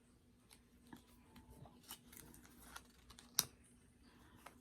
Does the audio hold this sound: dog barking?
no